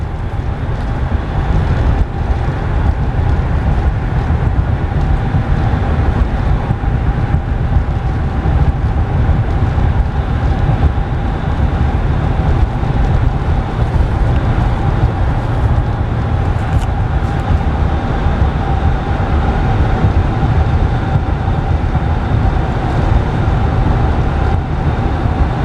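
Steady interior road and wind roar of a 2012 GMC Savana conversion van cruising on the highway at about 61 mph, a continuous broadband drone with no talk.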